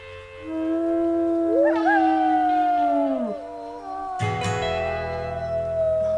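Wolf in the WolfQuest game lets out a long, loud wavering howl that rises and slides down, followed by a second howl layered over a lower rumbling background, with no talking.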